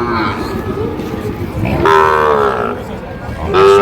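A Sahiwal bull calf, about five to six months old, moos at a busy cattle market, giving one long, close call and then starting a second, over steady background crowd noise.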